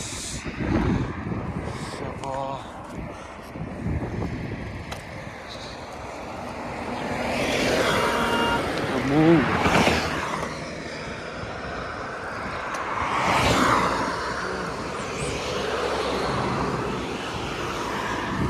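Vehicles rushing past on a road: broad whooshing swells build and fade, with the strongest pass near the middle and another one later, over steady traffic noise and some faint talk.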